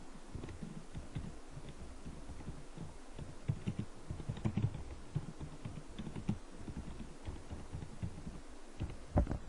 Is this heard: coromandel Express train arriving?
no